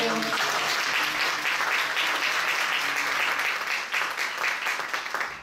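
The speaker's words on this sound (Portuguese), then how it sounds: "dá uma aplauso ao Senhor" A church congregation applauding at a worship service, dense sustained clapping from many hands filling the room, loud and close, with voices faintly mixed into the crowd before it begins to thin out near the end.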